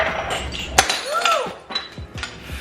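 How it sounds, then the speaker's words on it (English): Glass breaks in a home kitchen while a spice cake is being decorated: one sharp, close crack, followed by ringing clinks and scattered tinkling of pieces over the next couple of seconds. "I literally just broke glass."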